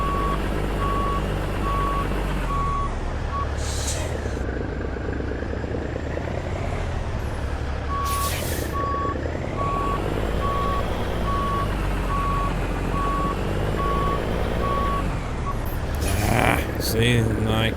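Steady, evenly spaced reversing beeps from a semi truck backing a trailer into a parking spot in American Truck Simulator, played in VR, running over a constant low engine rumble, with short bursts of other noise mixed in.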